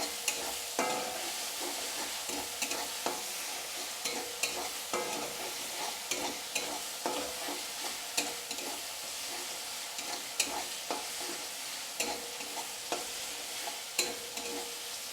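Ginger and garlic paste sizzle in hot oil in a pan, stirred steadily with a spatula that scrapes and clicks in an even rhythm over the continuous frying hiss, close up with no talking.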